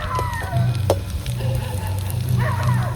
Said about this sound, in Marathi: त्याला आता बोब्या तळायचं चाललंय बघा